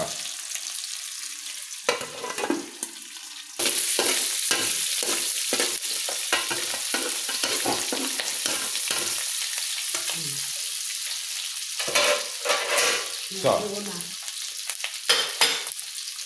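Garlic, onion, ginger and star anise stir-frying in hot oil for a Filipino pork batok dish, a steady close sizzle broken by repeated scraping stirs and spatula knocks throughout, with no talking.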